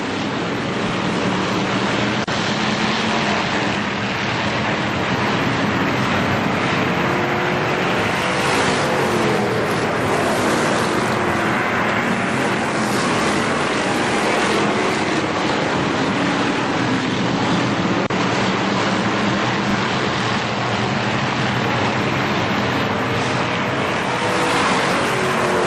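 ARCA SuperCars racing at Kil-Kare Speedway after a green-flag restart, a dense, loud, unbroken roar of many engines at speed that swells and blends as the field passes, with no voices heard.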